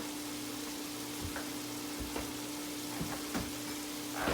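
Rice for jambalaya cooking in a pot, a steady low sizzle with soft scraping strokes of stirring at a regular pace, close and fairly even throughout.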